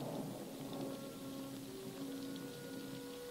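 Rain falling outside a house in a 1986 kung fu film scene: a steady, soft hiss of rainfall with faint tonal background sounds, heard alone without talk.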